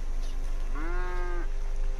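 A single Florida Cracker cow in Red Dead Redemption 2 lets out a drawn-out moo lasting about a second, over a steady background hum.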